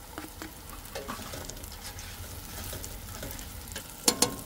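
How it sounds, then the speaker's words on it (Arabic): Onions and garlic frying in a pan for a Kuwaiti-style dish, a steady close sizzle and crackle with light stirring scrapes and a couple of sharp clinks near the end. "ننزل عليه البصل. بس تحمر ويانا البصل بالشكل هذا، ننزل عليه الثوم."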